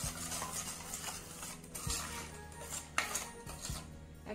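Flour and sugar being mixed by hand in a bowl, with a steady soft stirring scrape and occasional clinks against the container, close and quiet with no voices.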